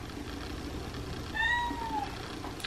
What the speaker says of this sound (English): My kitty's trying to get out over there.